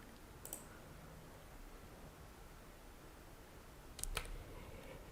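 Two faint computer mouse clicks, one early and one near the end, sit over a steady background hiss while someone sets up a WordPress site through a GoDaddy hosting dashboard.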